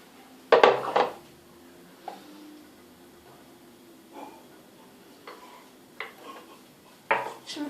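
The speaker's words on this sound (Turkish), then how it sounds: "Şimdi karıştırıyorum arkadaşlar." Cake batter of egg whites, flour, baking powder and vanilla being stirred in a bowl, with sporadic clinks and scrapes of utensil against the bowl, a few sharp knocks standing out amid quiet pauses.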